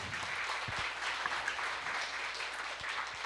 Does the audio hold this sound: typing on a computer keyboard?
no